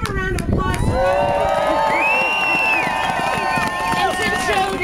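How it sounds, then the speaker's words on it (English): A crowd at a citizens' rally in Maine clapping and cheering steadily, with babble and a voice over the applause. "give a round of applause"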